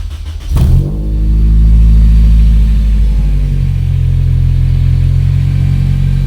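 A Honda Jazz GE with a swapped K20 Type R engine cranks and fires up loudly close by, then settles into a deep, steady rumbling idle held for several seconds.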